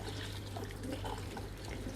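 Boiling water pours and trickles over a block of ready-made tofu in a kitchen, a continuous close splashing wash with a low steady hum underneath.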